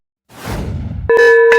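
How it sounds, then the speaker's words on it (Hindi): A worker strikes a metal bell at a plantation in Latpanchar, first a breathy rush, then loud ringing clangs with a sustained metallic tone, struck twice in quick succession. "जो वर्कर है वो अभी घंटी मार रहा है"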